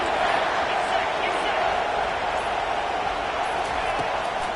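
In an American football video game, a stadium crowd cheers a defense on third down, a broad steady roar under an announcer's continuous commentary.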